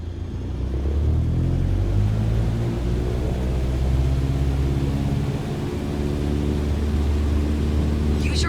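A light aircraft engine runs at full takeoff power in a flight simulator, a steady loud droning rumble with harmonic tones that holds for the whole stretch, with no talk over it.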